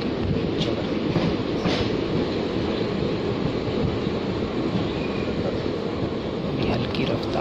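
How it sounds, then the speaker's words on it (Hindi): A passenger train rolls along slowly at night, a steady low rumble filling the car with faint rattles and track clatter throughout, close and continuous. "अभी हल्की रफ्तार से ट्रेन चल रही है।"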